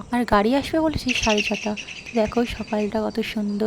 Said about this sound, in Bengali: পাখির ডাক দেখেই মনটা ভালো হয়ে যায়।